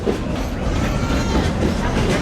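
A real steam train runs at Dollywood theme park, its wheels and cars rumbling in a loud, steady roll with faint clattering and no break.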